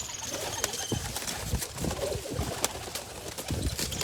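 Teddy pigeons for sale coo repeatedly at close range, soft throaty calls overlapping with a busy background of rustling and shuffling.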